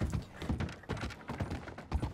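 Horse hooves in Red Dead Redemption 2 clip-clop in a steady, close rhythm, loud and even, with no talk over them.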